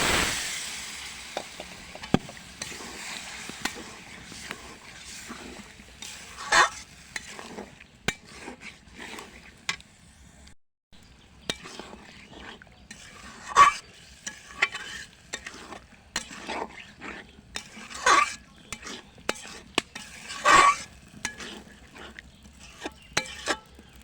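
Spiced meat frying in a pan for biryani on a winter morning is stirred with a metal spatula. Intermittent scrapes and clicks sound over a faint, steady sizzle, close by, with no speech.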